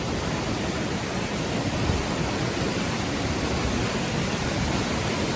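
Steady, dense roar of a waterfall in the Lembah Purba valley of Sukabumi, heard up close as a constant broadband rush without voices.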